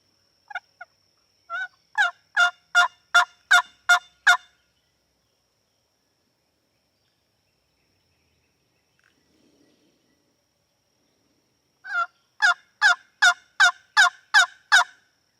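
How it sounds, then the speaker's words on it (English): A wild turkey gobbles outdoors in two loud, rapid bursts of repeated gobbling calls, separated by a long quiet stretch with no voices. "I just heard a gobble."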